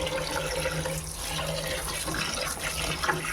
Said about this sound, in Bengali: ভালো করে ধুয়ে নেই, ভালো করে ধুয়ে জল ঝরিয়ে নিয়েছি